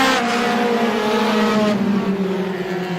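Race cars roar past at Star Speedway during a Roadrunner feature, engines loud and close with a steady high drone and pitch shifts as the field laps the short oval.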